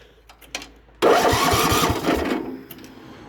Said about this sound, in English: I'll crank the engine over once more so you can hear it